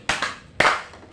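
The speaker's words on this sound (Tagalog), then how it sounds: "bigyan ninyo ng 3 palakpak ang inyong mga sarili" A group of children clap three times in a classroom setting, with two sharp claps close together and a third after a short pause. The claps are distinct and fairly near.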